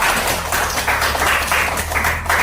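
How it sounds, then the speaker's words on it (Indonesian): Classroom students clapping together in a rhythmic, patterned burst during a primary science lesson, close and loud, with a low steady hum beneath. "Tepuk tangan untuk kita semua."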